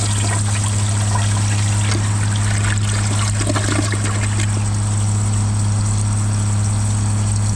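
A Kohler Wellworth Ingenium toilet flushes a glove: steady rushing, trickling water runs for the whole stretch over a constant low hum, close and fairly loud, with no talking.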